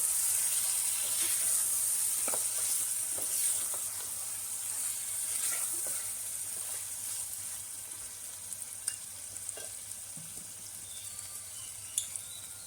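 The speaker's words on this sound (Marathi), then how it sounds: "आता या मध्ये आपण मटण घालून घेऊ उकडलेलं चांगल्या प्रकारे मिक्स करून घेऊ" Boiled mutton stirred into hot masala for a village-style black mutton dish, giving a steady close sizzle and frying hiss with scattered scraping stir clicks throughout.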